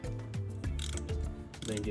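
A ratchet with a 10mm socket tightens a part during spark plug replacement on a 2017 Camaro, giving a few short clicking bursts close by with brief pauses, and no talk.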